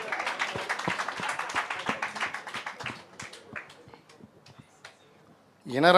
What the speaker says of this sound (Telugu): క్లాప్స్ కొట్టండి వాళ్ళకి